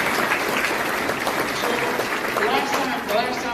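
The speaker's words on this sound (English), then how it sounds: "Give this kid a round of applause." Sustained, dense applause from an audience at a leadership conference, loud and steady throughout with a broad crowd wash.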